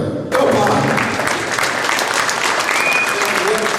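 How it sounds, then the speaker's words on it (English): Applause erupts abruptly from the audience at a citizens' oil and gas forum, a loud, dense burst of clapping that holds steady to the end, with a few cheers and voices mixed in. "A big round of applause for Jim here."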